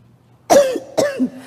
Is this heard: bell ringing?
no